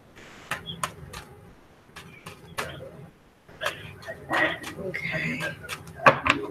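Tarot cards are shuffled in soft, quick bursts of riffling and tapping, faint and close, with pauses between rounds and a little talk in the background.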